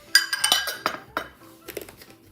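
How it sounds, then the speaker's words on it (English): Whole milk being mixed into a German chocolate cake batter: a utensil clinks and scrapes against a bowl in a handful of close, uneven knocks and taps. "now I'm going to mix in a cup of whole milk."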